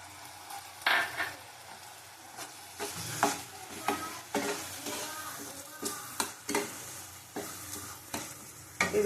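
Chopped tomato sizzles and fries in a pan with taro and five-spice tempering, stirred with a utensil in repeated scraping strokes over steady close crackling.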